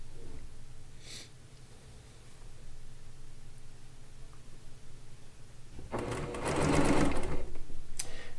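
A sewing machine pieces a Log Cabin quilt top, giving a short, close mechanical whir of stitching near the end of the clip after a quiet stretch with faint room noise and a few light clicks.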